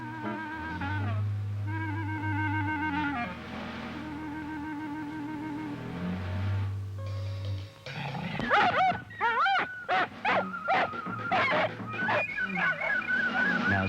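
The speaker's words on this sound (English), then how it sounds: "Both these dogs attack snakes without fear" Dogs bark and yelp while attacking a snake in the Australian bush, with sharp repeated barks in the second half following a stretch of sustained tonal music.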